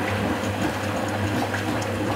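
Water rushes steadily into a machine with a constant hum and gurgling flow, continuous and fairly close.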